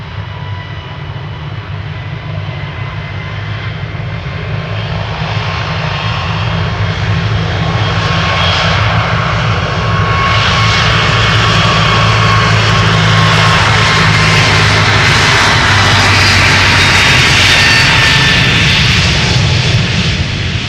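A JetBlue jet airliner takes off from Schiphol's Polderbaan runway, its engines producing a loud, steady roar that builds and holds throughout, heard up close with no talking.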